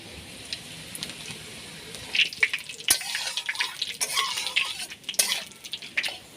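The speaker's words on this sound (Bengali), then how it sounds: "এখানে আছে গোটা শুকনো লঙ্কা, তেজপাতা আর জিরে, এটা আমি ফোড়নে দিয়ে দিচ্ছি।" Whole dried red chilies, bay leaf and cumin hit hot oil to temper spices for Bengali-style ghugni. Crackling sizzles and sharp pops rise after a quiet start, with occasional clinks of a utensil against the pan.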